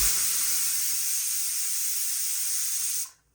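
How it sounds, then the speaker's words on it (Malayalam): Steam hissing steadily from a pressure cooker whistle while chicken biryani cooks, a loud continuous hiss lasting about three seconds before stopping abruptly. "കുക്കർ അടച്ച് വിസിലിട്ട് ചെറു ചൂടിൽ വേവിക്കാം."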